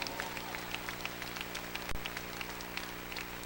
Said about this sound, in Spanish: Alguien que aplauda fuerte a su Rey en este día.